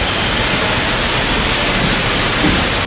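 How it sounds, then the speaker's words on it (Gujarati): A downpour at Damodar Kund in Junagadh produces a loud, unbroken roar of falling and rushing water, dense and steady from start to finish, with no speech. "જૂનાગઢમાં ધોધમાર વરસાદ, આ દ્રશ્યો જે છે તે દામોદર કુંડના છે"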